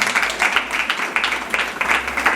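A congregation at a church wedding claps in quick, pulsing bursts, a dense crowd sound with a few voices mixed in.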